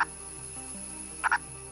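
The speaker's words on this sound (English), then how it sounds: "This purple frog, also known as the pig frog, lives out most of its life burrowed underground." A purple frog, also called the pig frog, gives a quick double croak near the end, close and clear over a steady low background hum.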